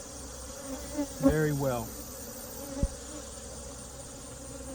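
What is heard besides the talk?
honeybees buzzing around an open hive during inspection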